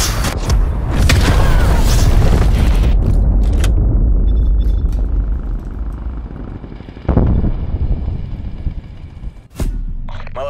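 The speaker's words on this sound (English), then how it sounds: "Enemy cruise missile launch detected." A cruise missile strike in a video game bursts into a loud, sustained rumbling explosion that slowly fades, followed by a few sharper thuds.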